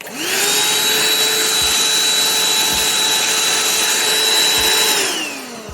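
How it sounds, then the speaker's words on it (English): A vacuum cleaner cleans the dust from a computer fan, a loud steady whine that ramps up, holds evenly for several seconds, then winds down, with no talking. "I'll vacuum the fan"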